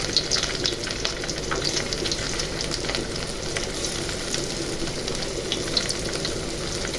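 Bisara, a fava bean paste, fries in a home kitchen pan with a steady, dense sizzle and crackle, close and fairly loud throughout, with no voices.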